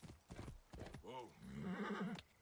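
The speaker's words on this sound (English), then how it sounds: "Dumbass horse can't climb a hill" A horse in Assassin's Creed Origins gives a short, wavering whinny after a few soft hoof clops, close and fairly quiet, with a brief grunt or breath around it.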